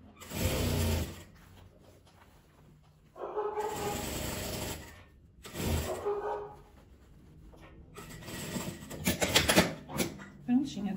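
A sewing machine stitches a fabric gift bag in short bursts of mechanical whirring, separated by pauses, with a person talking in between.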